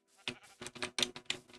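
Video game sheep bleat in a quick run of short, close, wavering calls, with no talk over them.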